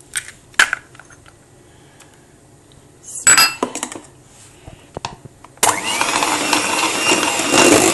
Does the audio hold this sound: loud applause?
no